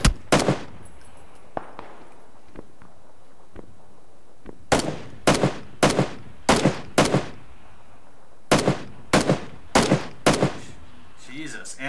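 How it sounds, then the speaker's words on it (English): Sniper rifle fire in PUBG on a beach, heard as repeated sharp, loud shots in quick pairs and bursts, with brief quiet gaps and a few fainter distant cracks early on. "that sniper on the beach shot him"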